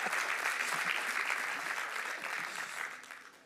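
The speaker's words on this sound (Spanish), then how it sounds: "Un aplauso, por favor" Church congregation applauding, a steady wash of many hands clapping at moderate volume that slowly fades over a few seconds.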